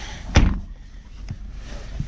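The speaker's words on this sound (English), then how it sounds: "Let's close this door." The driver's door of a 2020 BMW 330i closes with one solid, close thud, followed by a couple of faint lighter knocks inside the cabin.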